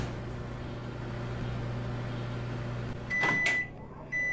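Virtual microwave oven in the Job Simulator kitchen game humming steadily with a low drone, then ending in a couple of bright beeps and a door clatter near the end.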